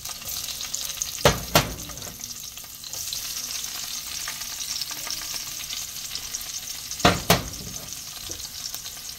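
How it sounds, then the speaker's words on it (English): Sweet peppers dropped into hot olive oil in a pot for shrimp fried rice, two loud bursts of sizzling a few seconds apart over a steady frying hiss. "I've added some more olive oil to the pot, and now I'm gonna put my sweet peppers"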